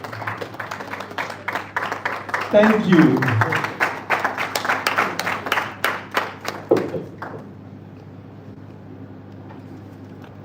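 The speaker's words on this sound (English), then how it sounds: "Please keep clapping till he gets here." An audience at an airport event claps steadily for several seconds, a dense patter of many hands under a speaker's voice, then the applause dies away, leaving a quiet room.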